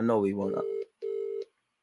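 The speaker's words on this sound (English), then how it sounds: "let me go call my Spurs supporting brethren and see if he picks up this phone" A telephone call rings out after a moment of voice and background noise, with two steady electronic ringback tones, each about half a second long, separated by a short pause.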